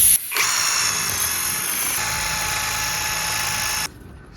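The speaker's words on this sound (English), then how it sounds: "the drill's cleaned it all up now" A power drill whirs steadily for several seconds as it cleans out a puncture hole in a tyre from a VW Up, a close, continuous whine that starts abruptly and cuts off sharply near the end.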